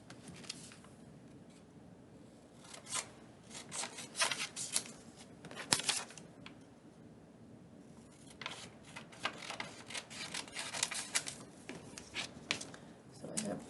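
Scissors snip through paper while cutting out angle shapes, giving a quiet, irregular run of crisp cutting and rustling sounds with pauses between bursts.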